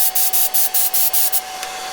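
A spray gun lays a top coat over a freshly dyed car seat in rapid, even bursts, about seven short hisses in a row, then a steady faint hiss continues after the last burst.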